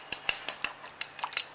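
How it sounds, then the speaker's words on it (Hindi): Two cups of yogurt are beaten in a bowl, giving a quick irregular series of sharp clinks and scrapes, close and fairly quiet, with no talking. "बाउल में 2 कप दही डालेंगे, अच्छे से मथ देंगे,"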